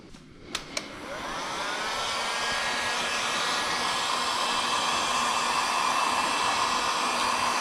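A heat gun warms a vinyl graphic sticker, starting with two sharp clicks before its airy whine rises and settles into a steady, even blowing hiss close by.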